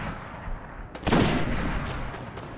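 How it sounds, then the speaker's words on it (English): Gunfire in a video game as an enemy is shot in the head several times, a quick burst of loud shots rolling into a sustained crackling roar, close and dominant. "We're gonna shoot this guy in the head a few times"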